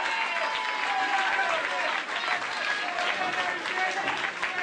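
Dense, steady applause from a boxing crowd after the decision in an amateur Class A under-54 kg London championship bout, continuous and close throughout with voices mixed into the clapping.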